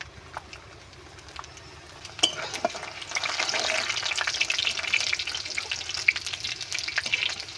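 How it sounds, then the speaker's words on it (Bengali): Chopped garlic fries in hot mustard oil in a heated pan, the sizzle swelling after a sharp clatter and continuing as a dense, close crackle with intermittent stirring scrapes and taps. "রসুনটা খুব সুন্দর মতো আমি নেড়ে তেড়ে ভেজে নিয়েছি"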